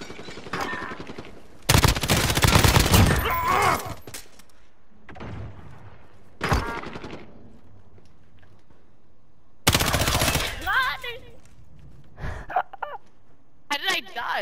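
Bursts of automatic fire from an AK rifle in a first-person shooter, two long loud volleys several seconds apart with shorter shots between, and a player talking over parts of it.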